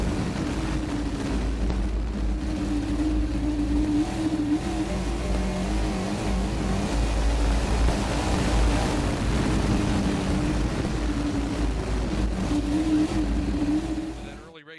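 From onboard a race car running to the checkered flag, a loud steady engine roar with wind buffeting holds throughout and fades out at the very end.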